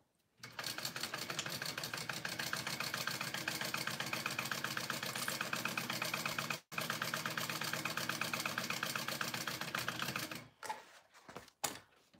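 A sewing machine stitches the pieces of a Harlequin tote bag together, running in a steady, rapid mechanical chatter for about ten seconds with one brief pause, then stopping, close and alone with no talk.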